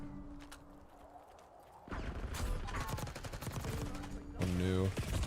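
Gunfire in a Call of Duty multiplayer hardpoint match, a quieter opening that breaks into dense, rapid volleys of shots and automatic fire, with a game announcer's voice rising over the shooting near the end.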